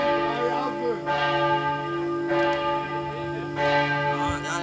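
A church bell strikes with long, ringing tones, three loud strokes spaced about a second apart, their overtones sustaining and overlapping. The sound is steady and prominent, with no voices over it.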